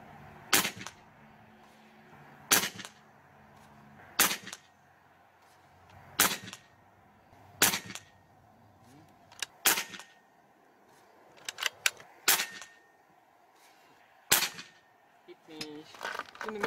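A Hatsan Hercules Bully .25 (6.35mm) PCP air rifle, charged to 240-250 bar, fires sharp, loud cracks about every two seconds, roughly ten shots in all, with a quicker cluster near the end.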